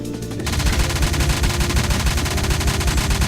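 Gunfire in the video game The Renegade Line, an alpha build: a dense, loud burst of rapid automatic shots in a fast, even rhythm runs almost unbroken through the clip after a brief quieter start.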